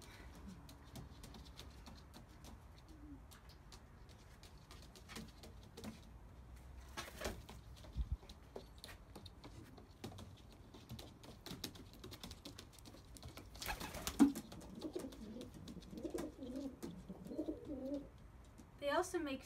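Rescued carrier pigeons and a king pigeon at a 4-H ranch give soft, low cooing calls, faint and intermittent over a quiet background with light tapping, becoming a little more active toward the end.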